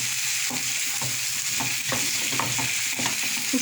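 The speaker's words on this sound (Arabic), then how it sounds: "كنحركو." Pizza sauce being stirred in a sizzling pan, a spoon scraping and sloshing in repeated strokes over a steady bubbling fry, close and alone with no voices.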